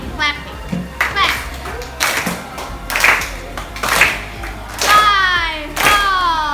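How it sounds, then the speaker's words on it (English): Children in a classroom chant a poem rhythmically in unison while sharp hand claps land between phrases, close and lively. "Alright, start clapping"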